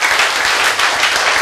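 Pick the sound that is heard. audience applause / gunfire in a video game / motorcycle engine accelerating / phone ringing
audience applause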